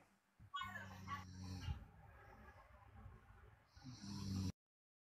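A person snores loudly during a phone call, with rough drawn-out snorts and breaths that rise and fall close to the microphone, then cut off abruptly.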